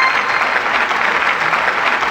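A game show studio audience claps enthusiastically, a steady, dense burst of applause filling the short stretch without any talk over it.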